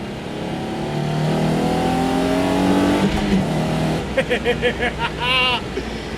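A Datsun 280Z engine drones and climbs steadily in pitch as the car accelerates, then settles into rhythmic pulsing revs and a final higher rev burst, heard fairly close and alone.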